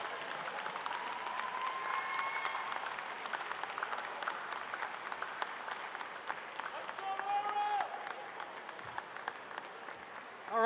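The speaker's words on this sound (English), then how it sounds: "one more round of applause for our graduates" A crowd applauds graduates at the King's College 2024 commencement ceremony, with steady, dense clapping that fills the space for about ten seconds and swells briefly near the end.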